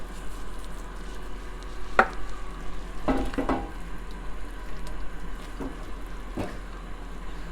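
Tomato sauce for eggplant parmesan, seasoned with black pepper and salt, simmers gently in a pan under a low steady bubbling hiss, while a spoon scrapes and clinks against the pan a few times.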